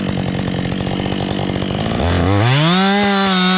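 A chainsaw cuts through a big log on a volunteer trail maintenance job. The engine chatters roughly under load, then rises to a loud, steady, high-revving whine as the cut goes through.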